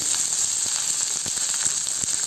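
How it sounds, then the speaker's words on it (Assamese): Garlic fries in oil in a pan for mint chutney, an even, close sizzle with faint crackles and pops running throughout, unaccompanied by speech. "নহৰুখিনি এতিয়া মই একদম ৰঙচুৱা নোহোৱালৈকে ভাজি ল'ম।"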